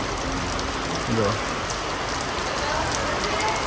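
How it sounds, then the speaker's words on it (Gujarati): Heavy rain pours down in a dense, even hiss of drops striking surfaces close by, while a voice speaks briefly near the start. "વરસાદ ચાલુ થઈ ગયો ફૂલે ફૂલ."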